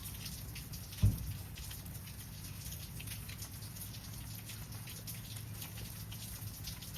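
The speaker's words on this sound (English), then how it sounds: "It's raining." Steady outdoor rainfall, a constant broadband patter of drops on surfaces with a single sharp thump near the start, no voices.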